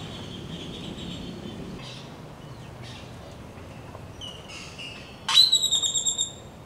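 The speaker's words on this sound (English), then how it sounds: "I come back and Matthew's just like adopted birds." Birds chirp beside a campsite in Mexico next to a sapodilla tree: a few faint, thin calls early on, then a louder burst of rapid, repeated chirps close by near the end.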